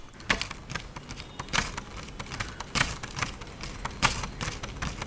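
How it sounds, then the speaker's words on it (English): Rhythmic finger taps on a sheet of paper laid on a table, dry papery clicks in irregular clusters, close and moderately loud, with no voices. "I picked up this piece of paper, put it on the table, and tapped on it in different rhythms"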